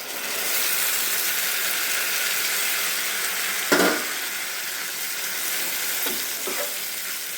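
Chopped onions and tomatoes sizzle steadily in an uncovered pan, a constant frying hiss close by, with a couple of sharp stirring scrapes of the spoon breaking through.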